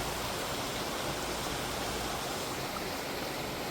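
Water pouring steadily from a sewage overflow in a rainy suburb, a broad continuous rushing roar with no breaks.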